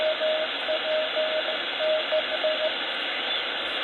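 Racal 6790 radio receiver putting out band-limited hiss and static with a faint intermittent tone, steady and continuous with no voices.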